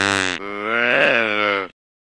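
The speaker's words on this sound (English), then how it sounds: "Deer." A deer gives a single drawn-out call, a deep harmonic groan that rises slightly in the middle before stopping abruptly, loud and close with no other sound.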